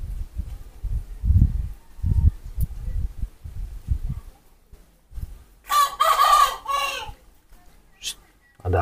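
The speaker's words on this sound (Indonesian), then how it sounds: "Ayam berisik, ini nih." Chickens clucking and a rooster crowing loudly at an outdoor house, the crow breaking out near the end after low, muffled rumbles and soft sounds.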